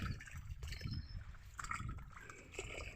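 Irrigation water runs into a mustard field on a village farm, a faint, steady trickle and gurgle with small splashes over about three seconds, and no talk.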